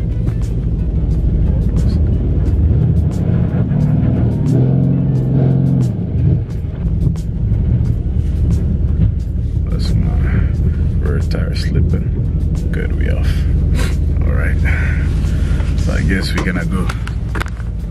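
A car slowly climbs out of a sloped driveway, its engine rumbling steadily nearby throughout, with people talking over it.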